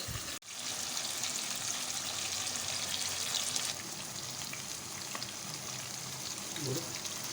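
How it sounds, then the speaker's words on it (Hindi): Pieces of mutton fry in a pan for an Afghani mutton dish, giving a steady, loud crackling sizzle that runs continuously from start to end with a brief dip near the beginning. "पहले हम बोटियों को फ्राई करेंगे।"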